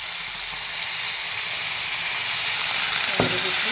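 Water is poured into a pan of melting jaggery while making Assamese sesame ladoo, producing a steady broad hiss that ends in a brief splash near the close.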